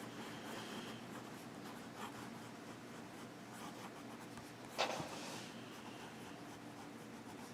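Quiet, close scratching of a Pilot Explorer fountain pen writing across paper, steady light strokes with a brief sharper tap or scrape near the middle, no voices.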